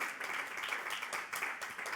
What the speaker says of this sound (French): Je pense qu'on peut applaudir d'ici.